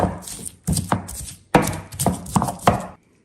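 Garlic and a piece of onion are ground in a stone molcajete, heard as close, heavy pounding and grinding strokes in uneven bursts, separated by brief pauses.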